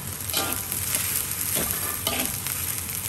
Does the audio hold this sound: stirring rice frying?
yes